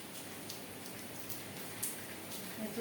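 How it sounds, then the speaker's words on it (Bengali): Steady rain falls through a day-long downpour, a quiet, even wash of drops spread wide across the sound with no clear single hits. "সারাদিন বৃষ্টি"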